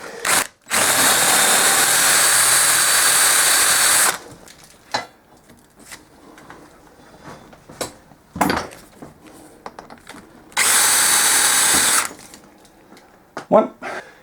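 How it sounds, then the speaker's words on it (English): A power drill whines loudly in two sustained bursts of several seconds each, drilling the heads off bolts on a pit bike, with clanks, knocks and a dog barking between them. "I'm going to drill them out, drill the heads off them."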